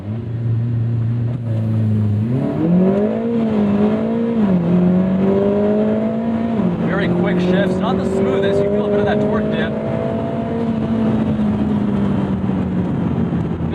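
A 2024 Lotus Emira Turbo with an AMG four-cylinder and dual-clutch gearbox launches hard, its engine note climbing loud and close through several quick upshifts, with a voice speaking over part of the run.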